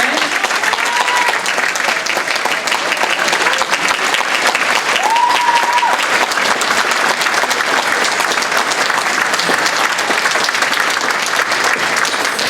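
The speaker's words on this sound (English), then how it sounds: "And a round of applause for Fred for sharing his story." Sustained applause from an event crowd honoring a survivor at a grand gathering, steady dense clapping filling the whole stretch with a brief whistle-like tone rising over it midway.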